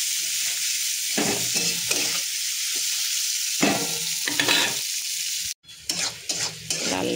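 Onions fry in hot oil for a fish curry with potato and dried mango, giving a constant bright sizzle broken by several scraping stirs of a spoon in the pan.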